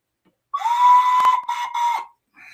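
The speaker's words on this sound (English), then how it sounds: "another whistle." A small whistle from an estate box blown in one sustained, shrill, steady note with a brief second blast, close and loud, followed by a faint short toot.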